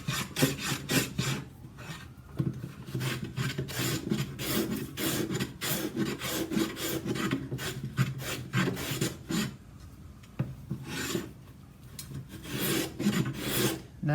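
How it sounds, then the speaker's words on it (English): Small Stanley block plane shaving a wooden guitar top by hand, giving steady rhythmic rasping strokes, close and continuous throughout. "So this is just a little Stanley block plane, and I can see where I need to take material off."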